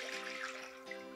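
Apple cider pouring into a sauce pot, a steady liquid trickle and splash heard close up, ending abruptly after about a second.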